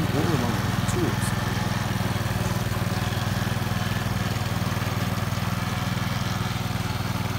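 A Husqvarna ST 124 gasoline snowblower runs steadily nearby, its engine producing a constant, loud mechanical drone with a rhythmic low throb throughout, no pauses or changes in pace.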